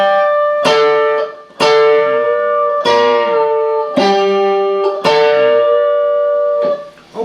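A slow electric guitar passage from a solo rings out alone and close, with five or six picked, bent notes that each sustain and decay.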